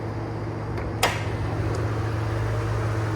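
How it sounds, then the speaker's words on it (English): Air conditioning unit of a 2013 Toyota Highlander hybrid Limited AWD running with the hood open, a steady low hum and whooshing airflow, with a brief faint click partway through. "What you're hearing there is the air conditioning unit running there."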